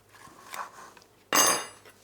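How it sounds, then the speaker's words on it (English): A knife works into a scallop shell, making faint scraping ticks and then a sudden louder crack as the shell gives way, fading quickly. "You want to run your knife through, and you want to hear that cracking sound on the back of the shell."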